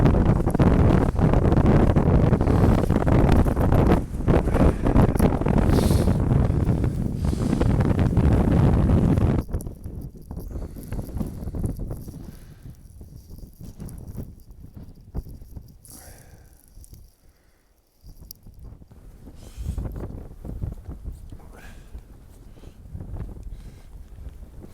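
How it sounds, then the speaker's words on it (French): Strong wind in a Canadian winter roaring hard against the microphone for about ten seconds, then dropping to gusty, uneven buffeting and rustling at a lower level. "quand le vent se lève, il se passe ça."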